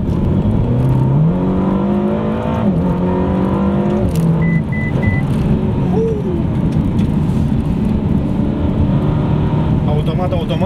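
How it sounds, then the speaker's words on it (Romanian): Ferrari California T accelerating on an open road, engine note climbing through the gears with shifts and a steady loud drone heard from inside the cabin, someone talking over it. "o să accelerezi ceva mai tare."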